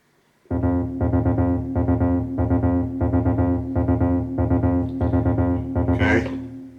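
A 16-step acid bassline plays on a Behringer TD-3 synthesizer as a steady, loud looping sequence of evenly spaced buzzy notes that starts abruptly and repeats unchanged throughout.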